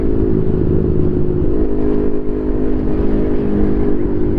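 A Yamaha MT25 motorcycle on a morning ride to work hums at a steady engine note with wind rumble, close and continuous, with no speech.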